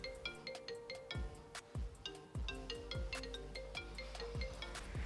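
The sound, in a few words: phone ringtone, incoming call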